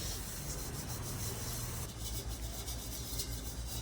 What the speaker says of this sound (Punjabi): ਫਿਰ ਆਪਾਂ ਸਟੀਲ ਵੂਲ ਨਾਲ ਇੱਕ ਵਾਰੀ ਰਗੜ ਦਾਂਗੇ